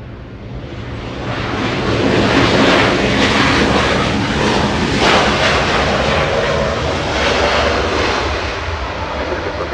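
Air Force One arrives at Los Angeles International Airport with a loud, sustained jet roar that builds quickly, holds near and powerful, then eases slightly, with no voices over it.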